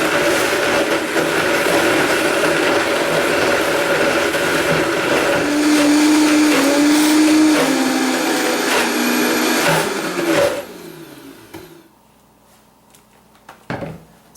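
A blender or food processor whirs steadily as it blends pesto, a loud continuous motor drone that winds down and stops near the end, followed by a few faint clatters.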